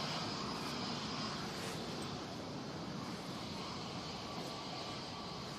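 An EasyJet Airbus A320neo at Manchester Airport on a windy day, its engines giving a faint, distant, continuous roar mixed with gusty wind noise throughout, no speech.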